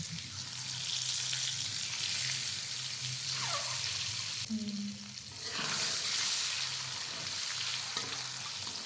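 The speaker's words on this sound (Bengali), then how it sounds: "আমি ডিমটা এক এক করে ভেজে নেব।" Eggs fry one at a time in hot oil seasoned with chilli powder, a steady close sizzle broken by a couple of spatula scrapes and a brief dip before the crackling swells again.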